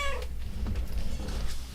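A pet cat named Delilah meows once briefly near the start, close and fairly clear, over a steady low room hum in a home recording studio.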